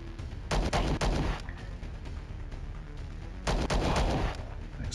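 Gunfire in the space combat game Star Traders: Frontiers, two bursts of rapid, dense shots with a quieter stretch between them, loud and close with no talking.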